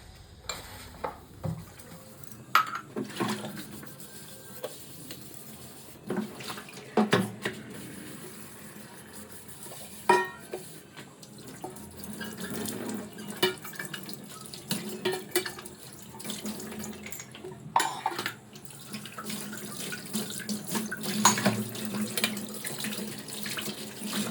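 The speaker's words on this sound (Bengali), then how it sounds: "থালা দুটো ধুয়ে নিই।" Tap water runs into a kitchen sink while two plates are washed, a soft continuous splash with scattered light clinks of crockery, moderately quiet and with no talk.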